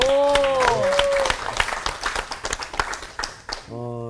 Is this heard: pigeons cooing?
no